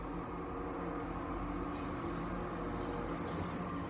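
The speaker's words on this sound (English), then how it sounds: "the freight train's just passing through Crowsford Station" A freight train passes through Crowsford Station, a low, continuous rumble with faint rattling, heard quietly and at a distance with no talking.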